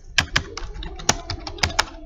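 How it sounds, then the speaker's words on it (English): Keys clatter on a computer keyboard as someone types, with about a dozen sharp, irregular clicks, some in quick pairs, close and clear against a quiet room. "Okay, I'm typing something."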